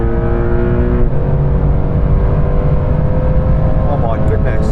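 A Porsche 911 Turbo S accelerating flat out on a de-restricted Autobahn, a loud sustained engine roar with rising tone and heavy road and wind noise, a voice speaking over it.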